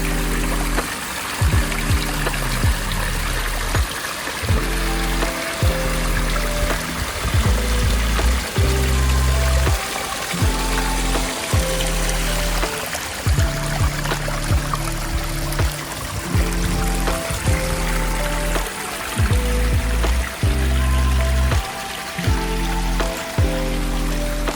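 Water trickles and splashes steadily in a backyard pet fountain built for a dog, with a close, continuous dribbling patter over a low, periodic hum or music-like tones in the background, no talking.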